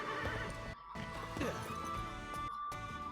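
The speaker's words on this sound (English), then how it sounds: "Why are you riding a horse indoors?" A horse whinnies loudly while hooves clop in quick rhythm indoors in the video game Fire Emblem Engage, with brief dropouts, over a continuous musical background.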